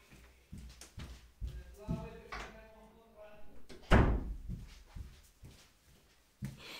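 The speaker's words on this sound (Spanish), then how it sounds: "Voy a cerrar la puerta" A door closes with a heavy thump in a home, followed by a few smaller knocks and clicks, while someone speaks softly before and after it.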